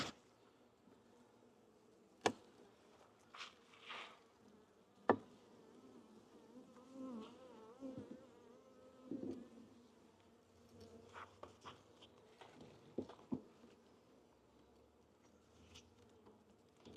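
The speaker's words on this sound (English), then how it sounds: "there's quite a few bees here" Bees buzz faintly around an old feeder in Texas in soft, intermittent bursts, with a few light taps and knocks in an otherwise quiet setting.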